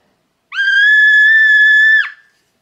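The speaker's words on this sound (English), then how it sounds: "Sounds like a whistle." A single steady, shrill toy whistle note held for about a second and a half, clear and close, with no talking.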